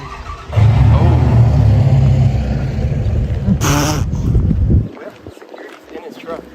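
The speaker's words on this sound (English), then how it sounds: "a dark security truck suddenly roared to life beside them" Dark security truck engine starting and roaring up beside an abandoned building, a loud, close rumble that holds for several seconds before dropping away, with people talking over it.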